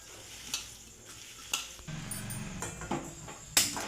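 Soya chunks coated in ginger garlic paste fry in oil. A quiet start gives way to a louder sizzle, and sharp scraping stirs strike the pan at intervals.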